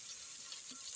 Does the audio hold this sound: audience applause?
no